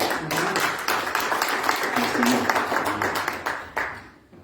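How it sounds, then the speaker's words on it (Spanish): Church congregation applauding and rising to its feet after a sermon, a steady dense wash of clapping that fills the room and tapers off near the end. "Dale un aplauso"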